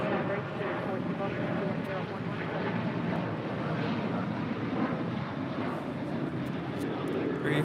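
A United airliner takes off from runway 25 right at LAX, its engines making a continuous loud roar that holds steady throughout.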